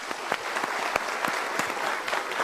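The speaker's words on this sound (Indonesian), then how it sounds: "kita berikan tepuk tangan dulu." Audience applause in a studio talk-show setting, dense steady clapping from a sizable crowd that continues evenly throughout with no voices over it.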